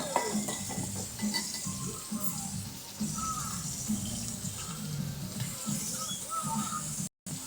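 Garlic frying in a pan while making a mackerel pickle, a steady, close crackling sizzle with some stirring and clinking throughout and a brief dropout near the end.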